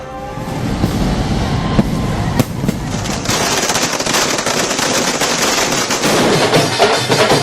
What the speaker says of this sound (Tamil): நள்ளிரவில் ஆட்டம் பாட்டத்துடன் பட்டாசுகள் வெடித்து ஆரவாரம்.